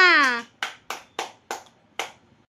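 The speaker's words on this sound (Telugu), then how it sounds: "claps for పృథ్విక" A few sharp, separate claps follow a short spoken phrase, spaced unevenly and close by, from a small group applauding a child named Prithvika.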